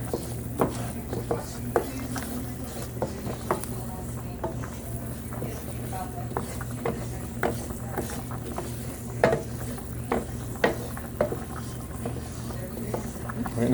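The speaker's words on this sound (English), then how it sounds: "the whole point of the stir here is to A, prevent any hot spots from discoloring" Country gravy being stirred in a non-stick pan: a quiet, steady sizzle with repeated soft scraping strokes of the utensil across the pan, close and alone without talk.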